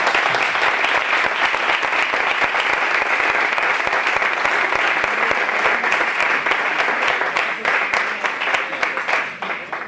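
A large audience at a Spanish lecture series gives loud, sustained applause to welcome a speaker, a dense and even roar of clapping that holds steady before it starts to ease near the end.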